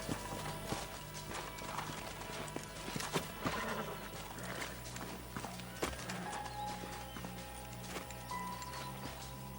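Horses clip-clop in Red Dead Redemption, with steady hoofbeats on the ground, a whinny and snorts, moderately close under faint ambient game sound.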